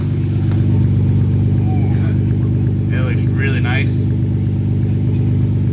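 An R32 Skyline GTR with a no-resonator tandem muffler exhaust rumbles steadily at close range, a deep, even engine drone that runs under someone talking.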